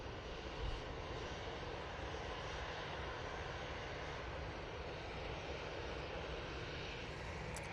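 An ATR turboprop airliner approaching Manchester Airport gives a steady, broad engine drone that holds evenly throughout without fading.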